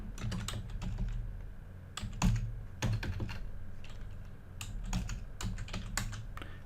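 Typing on a computer keyboard to enter a search term, a quick irregular run of close key clicks and clacks with a few heavier strikes, heard on its own in a quiet room.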